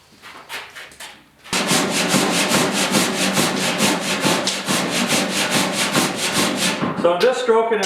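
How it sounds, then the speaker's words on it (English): Coarse 40-grit sandpaper is stroked over a dented 1971 Chevy pickup tailgate during bodywork, giving a loud, close, continuous scratchy rasp with a regular back-and-forth pulse, after a few softer strokes at the start and before a brief voice at the end. "So I'm just stroking it with some 40 grit first, and then I'll finish it off with some 80."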